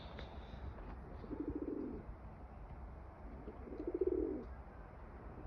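Pigeons in a quiet coop give two soft throaty coos a few seconds apart, close but faint, over a low, calm background.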